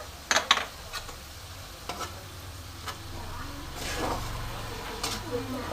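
Ginger paste is stirred into a frying pan for katla fish curry, with a soft low sizzle throughout and scattered scraping clicks from the spoon, some sharper at the start.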